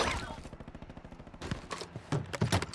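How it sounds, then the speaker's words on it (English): Small-caliber gunfire in Call of Duty Warzone on PC: a steady run of quick, close shots, then louder, denser bursts near the end, with no voices. "Small caliber rounds here"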